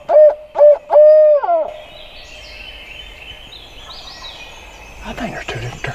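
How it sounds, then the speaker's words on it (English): Wild turkeys in spring hardwoods: a few loud, close hooting calls open, followed by a quieter stretch of distant outdoor calling and rustle, with no talking. "I think there's 2 different turkeys."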